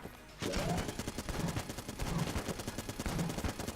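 Rapid gunfire from the video game Enter The Gungeon, including a pulse cannon, rattles continuously as dense automatic bursts with steady pulsing blasts underneath, loud and with no talking over it.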